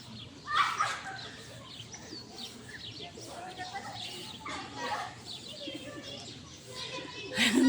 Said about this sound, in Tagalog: Ayan, may kalapati sila.